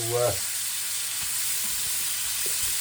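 Blanched chicken breast stuffed with mozzarella and cheddar fries in a pan, giving a loud, steady sizzle with occasional shifts and clatter, close up; a brief voice sounds at the start.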